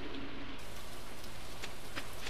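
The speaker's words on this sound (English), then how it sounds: "Rain." Steady, dense rain hisses continuously in the video game Stardew Valley, a loud, even wash of falling drops with no break.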